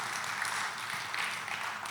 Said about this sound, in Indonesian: Beri tepuk tangan buat nama Tuhan.